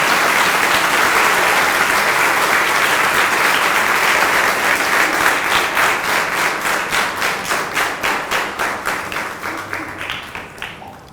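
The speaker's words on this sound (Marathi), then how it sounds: "आपण सर्वांनी या पदाधिकाऱ्यांच्यासाठी जोरदार टाळ्यांचा कडकडाट केला" An audience at a Sanskrit stotra recitation competition applauds the office bearers with loud, sustained clapping that turns into rhythmic unison claps and slowly fades, with no speech over it.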